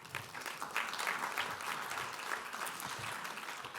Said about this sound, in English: I think we can give you a round of applause for that.